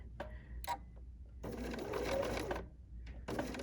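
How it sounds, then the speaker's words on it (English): A sewing machine over-sewing a small fabric ornament runs in short bursts: a quick stitch or two, a pause, then a longer whirring run and a final burst, fairly quiet and close. "I'm going to over sew a little bit"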